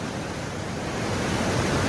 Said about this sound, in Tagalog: naririnig yung sounds ng tubig na yan, galing yan sa kabundukan